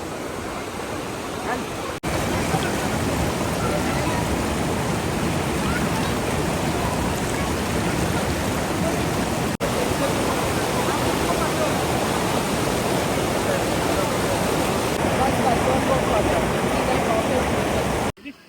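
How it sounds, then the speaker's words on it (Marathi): Dhanagar waterfall near Badlapur pours with a dense, constant roar of falling water. It is loud and steady throughout and drowns out other sounds. "तर मित्रांनो चला आपण या आता वॉटरफॉलची मजा घेऊया"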